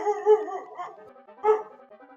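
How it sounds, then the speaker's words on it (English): Dogs barking and howling in a backyard: a run of yelping, howling barks, then a pause and a second loud burst around the middle, fairly close and without talk. "And that was my dogs barking."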